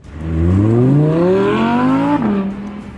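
An Audi R8 V10 Plus sports car engine revs hard, climbing steadily in pitch through a loud, close acceleration before easing back to a lower drone, with no voices.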